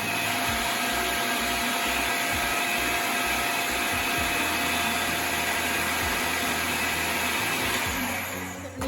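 A blender whirs steadily, grinding mint and coriander into chutney; the motor drones loud and continuous for about eight seconds, then cuts off.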